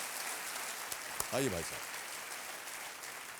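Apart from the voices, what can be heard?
studio audience applause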